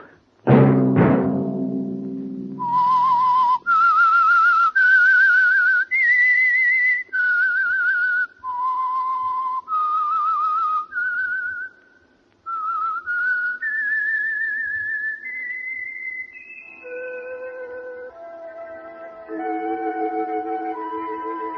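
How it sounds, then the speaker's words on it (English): A clear, lone whistled theme melody from the 1948 radio drama The Whistler, sustained notes rising and falling in a slow tune after a brief low opening sound, ending with harmonized tones. "Let that whistle be your signal for the Whistler"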